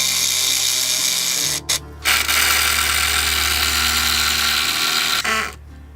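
A power screwdriver drives screws into the joint of two wooden skids for a skid shed, giving a loud, close motor whine that dips briefly partway, then runs on before cutting off.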